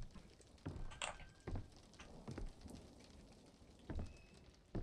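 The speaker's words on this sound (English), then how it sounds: "It's raining outside." Steady rain patters in the background of the horror video game Visage, with a few louder knocks and thumps breaking through at irregular moments.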